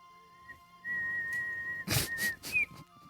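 A person whistles a short tune close up, a sustained steady note followed by a few brief rising notes, with breathy bursts and quiet room noise around it.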